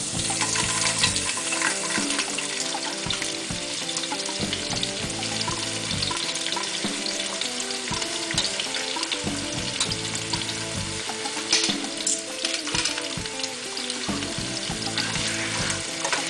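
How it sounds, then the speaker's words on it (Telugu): Cauliflower pieces frying in hot oil for a cauliflower pachadi, a continuous close sizzle broken by repeated stirring scrapes and clinks of a utensil against the pan, no voices. "నూనె బాగా వేడెక్కింది. దీంట్లో క్యాలీఫ్లవర్ ముక్కలు వేసుకోవాలి."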